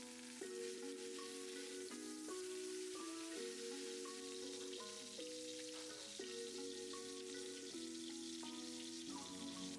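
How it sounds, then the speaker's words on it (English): Salmon fillets frying skin side down in an oiled nonstick pan give a steady, close sizzle. Clear tonal music plays over it throughout, and no one speaks. "we'll add in the salmon skin side down"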